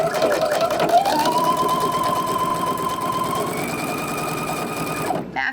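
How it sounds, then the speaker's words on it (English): A sewing machine stitches a garment's side seams right sides together, a steady fast whirring rattle with a rising whine that holds throughout, close and fairly loud, ending with a brief stop. "we're going to go ahead and sew up the side seams right sides together"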